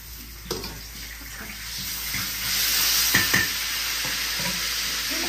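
Pork ribs stir-fry in a wok with Sichuan pepper, scallion and soy sauce in a home kitchen; a steady sizzle rises midway, with a few clinks and scrapes of stirring.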